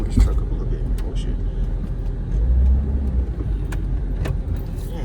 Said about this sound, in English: Let me pull this truck up a little bit.